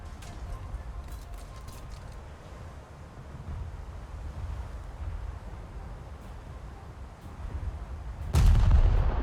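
Naval gunfire from the heavy cruiser Furutaka in a warship battle game, a faint crackle of distant shots and rumbling, then a sudden heavy boom near the end as a large explosion lands.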